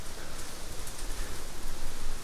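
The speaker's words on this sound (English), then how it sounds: "It started to rain." Rain falls steadily at the Dachau concentration camp, a dense, even hiss of drops on surfaces that holds at a constant, moderately loud level throughout.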